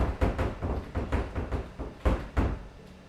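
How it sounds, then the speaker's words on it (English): Repeated heavy door slams during a livestream, about ten loud thuds in a rough, uneven rhythm over three seconds, close and booming with no talk. "when the door starts slamming repeatedly"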